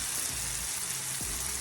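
Chicken pieces hit a pan of curry gravy, giving a soft, steady sizzle and bubbling heard up close at low volume, with a faint clink partway through and no talking.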